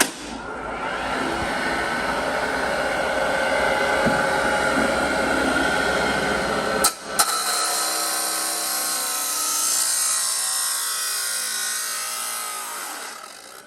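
A Delta 1 HP, 220V three-phase abrasive chop saw with a 10-inch wheel bites into thick steel pipe, a loud, sustained grinding whine that holds steady, breaks off abruptly midway, then spins down.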